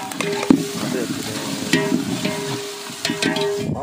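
Ginger garlic paste sizzles with onions in a hot pan while cooking a village-style chicken gravy, a steady close frying hiss broken by a few sharp stirring knocks and scrapes.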